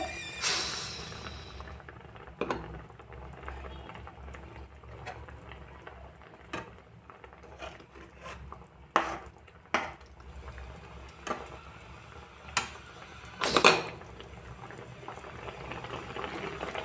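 Rohu fish curry bubbling in a pan as coriander leaves are stirred in: soft continuous simmering with several sharp clinks and scrapes of a utensil against the pot at irregular intervals.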